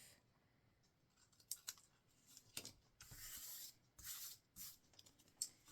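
Scissors snip off the end of a strip during a craft project for a beach tote and matching card: several quiet, close, crisp cuts and rustles in irregular bursts, with no talking.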